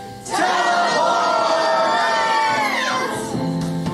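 A live improv theatre audience yells together in one loud, sustained group shout lasting several seconds, close and filling the room.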